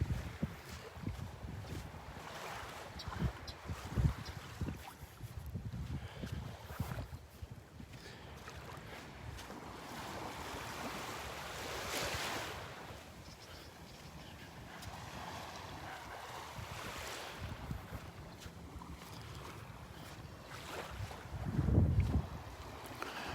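Strong wind sweeps Vanderbilt Beach, buffeting the microphone in uneven, rumbling gusts for a long stretch. Hissing surf swells and fades beneath it, and one sharp gust thumps near the end with no voices present.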